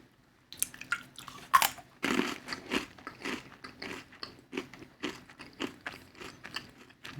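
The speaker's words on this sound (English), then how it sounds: "Salt and vinegar peanut with like a potato chip wrapped around it." Salt and vinegar peanuts coated in potato chip being bitten and chewed up close, with a string of crisp, irregular crunches in a quiet room.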